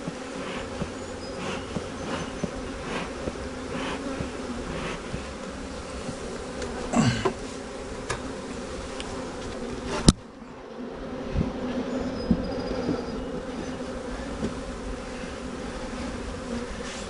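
Honeybees swarming around an open hive during a queen check, a dense steady buzzing close by throughout, with occasional faint clicks and one sharp knock partway through.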